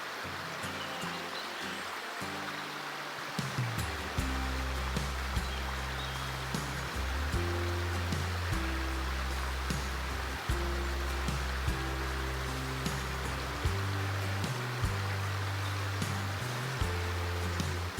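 A river flows through forest near Ball's Falls in Ontario, giving a steady broadband rushing wash with no talk; low tonal notes, likely music, run beneath.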